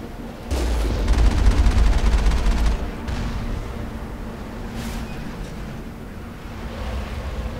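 Turret gunfire in the Mass Effect video game, a dense rapid burst of shots over a rumbling low roar for about two seconds, then fading into a steady wind-like background.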